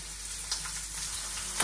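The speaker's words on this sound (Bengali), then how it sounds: "তেল দিয়ে দিলাম, পেঁয়াজ কুচি দিয়ে দিলাম" Chopped onions frying in hot oil, a steady close sizzle with a few soft stirring clicks, over a short stretch with no talking.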